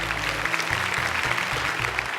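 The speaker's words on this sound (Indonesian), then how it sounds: "Sekali lagi tepuk tangan untuk 6 peserta kita" A studio audience at a children's Quran memorization competition claps for six contestants, a steady, moderately loud patter of hands over a low rhythmic musical bed.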